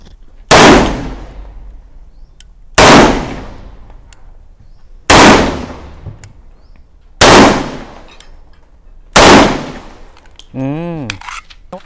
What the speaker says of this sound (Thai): เจ็ดนัดยิงได้ปกติเลยอ่ะ